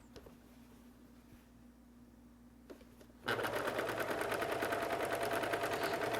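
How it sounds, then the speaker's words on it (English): After a quiet pause, a sewing machine starts up and stitches binding around a quilt in a rapid, even, close-up rattle that continues to the end. "and continue sewing around."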